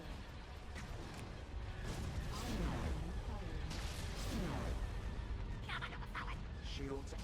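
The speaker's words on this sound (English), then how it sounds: "Ion cannon firing." Heavy ion cannon fire in the Star Wars strategy game Fall of the Republic, with booming sci-fi blasts and sweeping energy shots over a dense, continuous battle din, joined by game voices.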